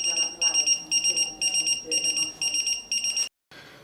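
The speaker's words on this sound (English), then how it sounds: "the pager goes off and you jump out of your skin" A lifeboat crew pager beeps in rapid, evenly spaced shrill electronic pulses, loud and close, and the beeping cuts off abruptly near the end.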